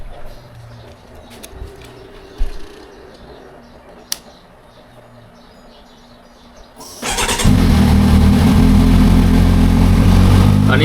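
A Kawasaki Versys 1000 motorcycle, just serviced with new spark plugs and a valve adjustment, starts up after a quiet stretch of shop noise and settles into a loud, steady, high cold-start idle that continues to the end.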